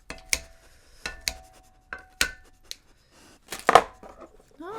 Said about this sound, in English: To cut my shrimp.